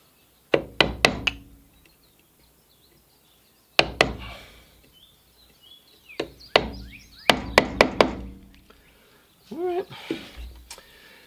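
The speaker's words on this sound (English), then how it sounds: "I'm using the flat part of the chisel on the back of the hinge" A chisel is tapped into wood to mortise a door hinge: sharp knocks come in quick clusters of three or four, separated by short silences, with a brief voice near the end.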